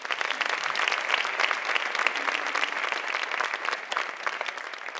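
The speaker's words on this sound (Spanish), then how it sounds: "un fuerte aplauso para Mercedes" Concert audience at a university big band performance applauding violinist Mercedes, a sustained, dense wash of many hands clapping, steady and moderately loud from start to finish.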